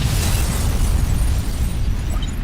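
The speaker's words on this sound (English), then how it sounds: "The Paris hotel bombing." A hotel bombing explosion from Metal Gear Solid 2 roars as a loud, sustained, rumbling blast that fills the whole moment with deep, dense noise and no voices.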